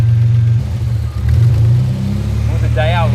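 A car engine runs loud and close with an idle problem, a rough low rumble that dips and recovers as it labors, while people talk nearby.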